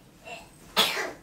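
A single sharp sneeze bursts out near the end after a faint breathy intake, close and loud indoors in a home kitchen where Italian food is being cooked.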